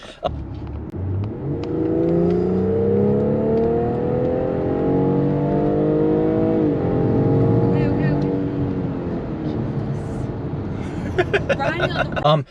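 A 2020 BMW X3 M40i engine revved gently while parked at a barn, the pitch rising and falling in two smooth swells at close range, with someone talking over it at times.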